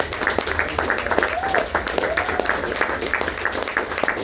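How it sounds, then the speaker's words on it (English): A convention panel crowd claps in a dense, sustained round of applause, with a few whoops and voices mixed in. "Give them one more round of applause."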